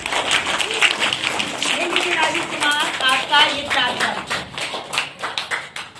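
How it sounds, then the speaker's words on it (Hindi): Children in a school classroom clap loudly, a burst of sharp, uneven hand claps running throughout, mixed with a child's and an adult's voices talking over it. "जोरदार ताली लगाइए"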